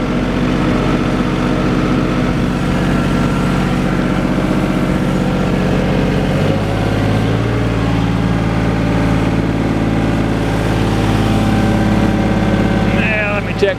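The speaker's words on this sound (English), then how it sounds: "tractor running great." A John Deere 850 tractor engine runs steadily at close range, a loud low rumbling drone that settles to a slightly different pitch about halfway through, with a brief metallic rattle near the end.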